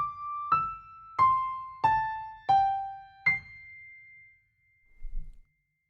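Five struck piano notes ring one after another at a steady walking pace, each a bright single pitch with sustain, the final note held longer and played an octave up, fading out before a soft low thump near the end.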